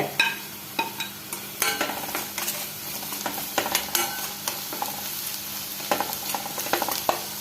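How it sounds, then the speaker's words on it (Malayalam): Coriander powder, curry masala and cumin powder sauté in a hot pan with a steady sizzle, while a spoon scrapes and taps against the pan in scattered strokes, close and without speech. "ജീരകപ്പൊടി ഇത്രയും കൂടെ നന്നായിട്ട് വഴറ്റിയിടുക"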